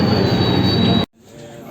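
A commuter train arriving at Surabaya Gubeng station, heard as loud, close rail noise with a sustained high wheel squeal that cuts off abruptly, leaving a quieter low rumble.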